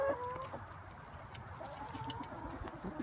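Chickens clucking on a farm on a spring day, a steady low chatter of several birds under outdoor background noise, with a few brief higher calls.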